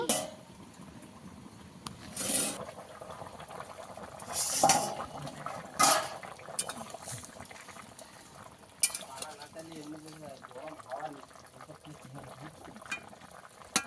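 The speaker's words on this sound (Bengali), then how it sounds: "একটু ঢাকা লাগিয়ে দেবো, খুলে দেখে নেব।" A lid is set on and lifted off a pot of simmering fish curry with potato and green banana, several loud metallic clanks and scrapes spaced apart over a low bubbling background, with some speech.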